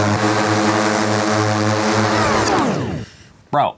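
A small drone flies in circles close by, its loud buzzing whine holding steady and then sweeping down in pitch as it veers away and fades, followed by a short sharp burst of noise at the very end.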